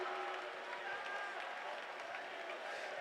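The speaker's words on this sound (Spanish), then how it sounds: "Pueblos todos, batid las manos" A congregation at a church convention claps together in a dense, continuous wash of applause, with crowd noise mixed in and no clear separate beats.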